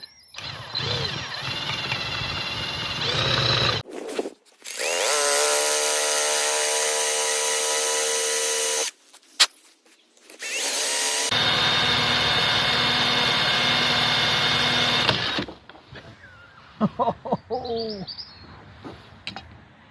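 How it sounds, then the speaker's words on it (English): A hand drill bores through a stuck part while dismantling a QT50 moped engine, the whining motor running in two long steady bursts with brief pauses and workshop clatter between. "I've got to drill through it"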